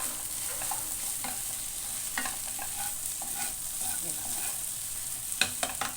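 Okra is stirred and sautéed in a pan with turmeric and salt, giving a steady close sizzle with scraping stirs and occasional clinks, alone without voices.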